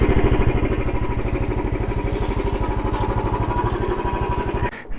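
A motorcycle engine idling while the bike arrives and parks at Pelling in West Sikkim, a close, steady rapid thumping throb that cuts off abruptly near the end, with no talk.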